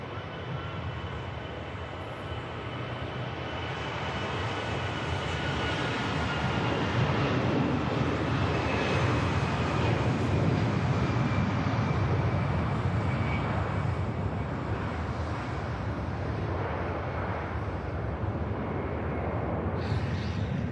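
Passenger aircraft at Manchester Airport, a steady broad roar of jet noise with wind buffeting, sustained and fairly loud throughout as the plane passes.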